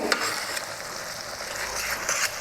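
Spice paste being stirred into a Bhogi mixed-vegetable bhaji in a pan, a steady scraping and frying hiss with soft spoon strokes, close and continuous with no talk.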